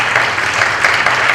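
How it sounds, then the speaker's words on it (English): Brief, full applause from a gathered crowd at a nursing home event celebrating the launch of a new unit, a short, loud burst of many hands clapping together. "let's give all who were involved in making this happen a round of applause"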